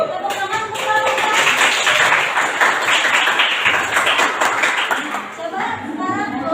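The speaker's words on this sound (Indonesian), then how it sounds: "Tepuk tangan untuk mereka." A classroom audience claps for a group of presenters in a coaching session, continuous close applause, with voices talking over the clapping.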